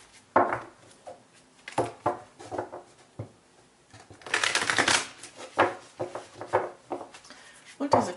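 Tarot cards are handled and shuffled for a reading, with soft taps and clicks and then a brief riffling burst, all mixed with a speaking voice.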